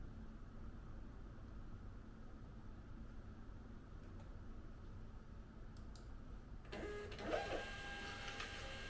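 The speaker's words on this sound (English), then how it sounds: "it's not printing the way it's supposed to" A printer runs with a low steady hum for most of the stretch, then near the end the print head kicks in with a louder whirring, mechanical feed noise. No one speaks.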